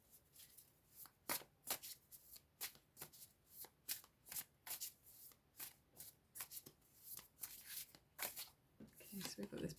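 A Wandering Star tarot deck being shuffled by hand, the cards riffling and flapping in quick, repeated bursts of crisp, close papery snaps, with faint speech at moments.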